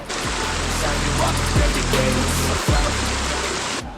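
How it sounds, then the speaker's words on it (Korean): A moss-covered waterfall in a rocky valley of Naeyeonsan, Korea, flows with modest water, making a constant close rushing hiss with occasional low rumbles and bumps. "이끼 폭포에 도착했습니다."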